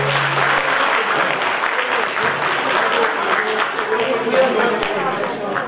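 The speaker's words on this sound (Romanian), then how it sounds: "Aplauze, vă rog!" Sustained, dense audience applause fills the space at a folk horse festival in Târgoviște, greeting a visiting folk choir or ensemble; loud and steady throughout, with a hum at the start.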